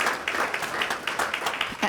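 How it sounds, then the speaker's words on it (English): Brief, fairly faint applause from guests at a USMC benefit dinner honoring military heroes and families, scattered claps with a voice murmuring underneath. "Big round of applause to the family of Jonathan Castro."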